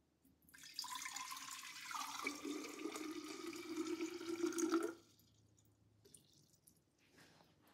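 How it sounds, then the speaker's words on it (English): Water is poured into a container for mixing a Nigerian Dwarf goat's medication, a close, steady stream that rises in pitch for about three seconds and then stops abruptly, leaving quiet room tone. "I'm gonna go ahead and pour my 4 cups of water."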